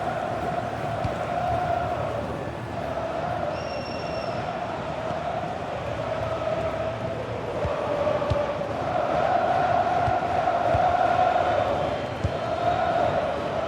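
Stadium crowd noise from an Italy versus Norway match in the FC26 football video game, a steady roar of murmuring fans that swells louder in the second half, with a commentator talking over it.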